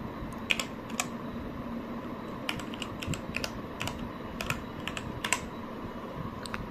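Computer keyboard keys tapped in quick irregular bursts, the short clicks close and fairly crisp over a steady low background hum, with no voices.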